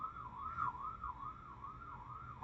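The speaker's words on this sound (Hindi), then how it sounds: "बड़ी जोर जोर से आवाज आती है एम्बुलेंस की" An ambulance siren wails outside, a steady up-and-down warbling tone heard from a distance, fairly faint and alone over low background noise, ending with a brief bump.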